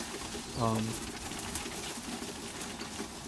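Birmingham Roller pigeons give a short, fairly close coo of about half a second near the start, followed by quieter background noise with soft, indistinct sound around it.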